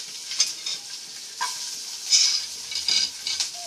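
Onions fry in a pan for Maggi noodles, a close, steady sizzle broken by scraping stirs and occasional clinks of a utensil against the pan.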